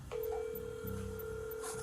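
A telephone ringing as a call is placed, a steady electronic ringback tone that holds at an even level, faint and slightly distant, with a low murmur of background sound beneath it.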